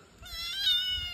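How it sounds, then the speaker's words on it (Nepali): Domestic cat on a village farm meowing once, a drawn-out, fairly close cry that rises and holds before fading. "बिरालो पुरा कराउँदैछ।"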